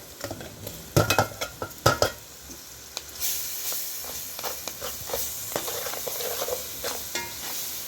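Ginger and garlic frying in a pot for a chicken feet curry, several sharp clinks and scrapes of a spoon against the pot, then a brighter, continuous close sizzle.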